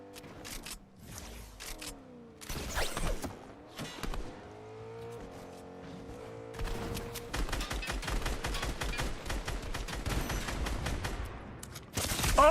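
Video game gunfire, including sniper shots, in a match: sharp repeated gun bursts and rapid fusillades mixed with engine and vehicle noise, loud and close, with dense firing in the second half.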